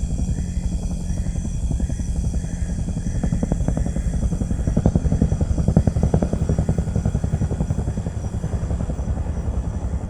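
A helicopter's engine roars with rapid rotor chop, loud and steady throughout with no voices.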